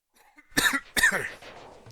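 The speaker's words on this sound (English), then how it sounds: "Apologies for the cough there." Two sharp, close coughs from a gamer at the microphone during Spyro 2 gameplay, each a harsh burst with a throaty tail, followed by near silence.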